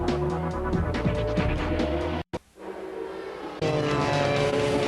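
Pescarolo Judd prototype race car lapping at the 2005 Le Mans 24 Hours, its engine roaring loud and close with rising and falling revs, a brief gap in the sound, then the snarl returning at full strength.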